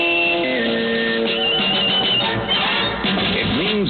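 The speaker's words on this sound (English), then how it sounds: "Our sports signature sounds like this." CBS Radio sports signature jingle, a short broadcast station ident in which bright tonal notes step down and then warble over a busy background, filling about four seconds of band-limited radio-quality sound.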